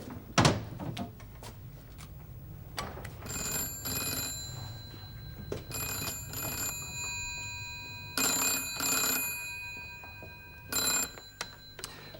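An old landline telephone rings indoors in bursts of bright, trilling bell tone, with a thunk near the start and quiet room noise between rings.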